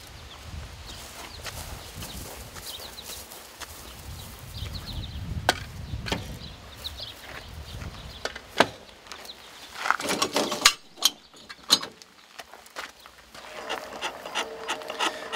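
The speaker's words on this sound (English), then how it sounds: "But first, let's chalk our wheels." Wheel chocks being set against the wheels of a 5th wheel trailer during hitching, giving scattered wooden-sounding knocks, scrapes and rubbing thuds at close range with no talk.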